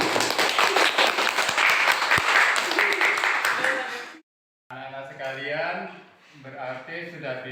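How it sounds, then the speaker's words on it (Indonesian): A classroom of children applauds together, loud and dense clapping filling the first four seconds, then a short silence before a teacher's voice speaks. "Kasih tepuk tangan"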